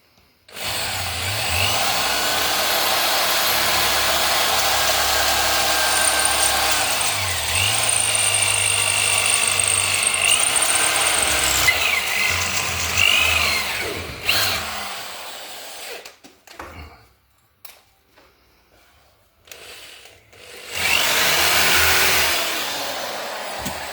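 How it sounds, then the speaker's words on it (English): A power drill whines and bogs repeatedly as it bites into metal, rising and falling in pitch, then stops, leaving sparse clicks and a final burst of drilling. "So we drill out those."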